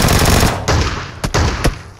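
Shotgun blasts in a shooting video game: a few loud, heavy booming shots spaced unevenly over two seconds, with a pair fired close together, over steady game background noise and no talking.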